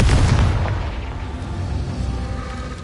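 A deep, loud boom from the Confringo blasting spell in a Hogwarts video game, with a sharp onset followed by a long rumbling, crackling decay.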